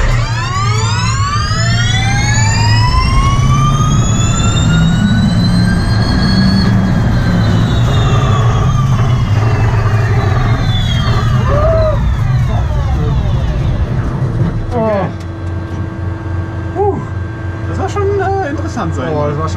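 An electric race car accelerates in reverse toward a world-record 210 km/h with a driver at the wheel: a loud, high electric-motor whine climbs steadily in pitch, then settles into steadier tones as it slows, with voices heard faintly.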